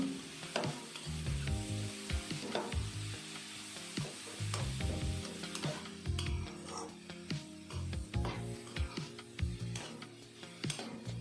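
Bitter gourd frying in a pan, a continuous crackling sizzle with sharper pops and occasional stirring scrapes of the spatula, close and steady, with soft background music underneath.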